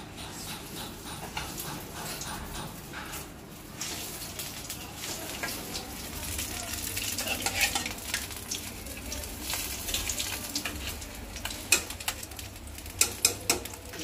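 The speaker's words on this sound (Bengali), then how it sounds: "তেল আমার গরম হয়ে গেছে, এখন আমি চিংড়ি মাছটি দিয়ে দেবো।" Shrimp fry in hot oil with a continuous crackling sizzle that swells louder midway, with occasional spatters and light clicks of a utensil against the pan.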